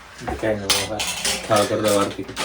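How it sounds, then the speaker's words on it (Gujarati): Steel dishes, pots and pans clatter and clink repeatedly while being scrubbed and washed by hand, with irregular metallic knocks and ringing close by. "મારે થોડાક વાસણ ઉટકવાના છે પછી જમવા બે પહેલાં બે જવાનું બોલો થાળ બાળ કરી નાખો ત્યાં વાસણ સાફ કરી નાખું"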